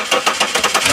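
A car engine cranks with a quick, even chugging rhythm, loud and close, lasting about a second with no voices.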